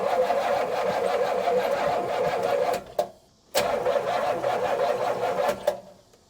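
A 1977 Pontiac Can Am engine cranks and runs with a steady, loud mid-range roar, cuts out abruptly near the middle, then fires back up and keeps running with a few sharp clacks toward the end.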